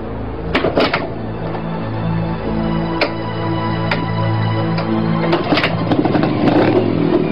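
A motorcycle rides along with a steady engine drone and periodic clattering knocks and bumps, fairly loud and close, with no talking.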